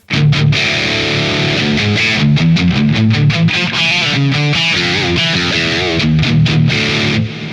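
Heavy, distorted electric guitar chugging with a percussive-style tone preset plays tight palm-muted riffs in fast rhythmic bursts, loud and continuous with short stops between phrases.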